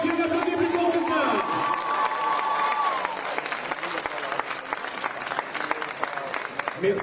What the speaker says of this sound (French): Allez, un applaudissement, applaudissement plus fort que ça